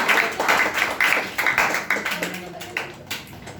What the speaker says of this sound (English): clap for Sonu